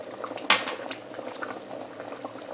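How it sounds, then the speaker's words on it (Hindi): Steady bubbling and gurgling of lentils boiling in a pot over high heat, continuous and close, with a brief sharper splash near the start. "और अब इसको मैं तकरीबन 5 मिनट तक इसी तरह तेज़ आंच पे इसको पकाऊंगी।"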